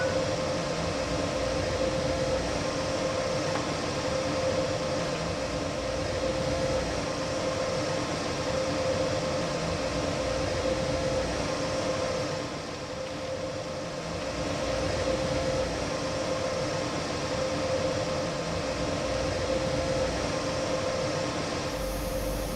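A BR185.2 electric locomotive in a train simulator, a steady cab drone with a constant electric whine and rolling rumble that dips briefly midway, continuous and close with no talking.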